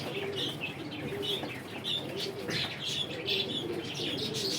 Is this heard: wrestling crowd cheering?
no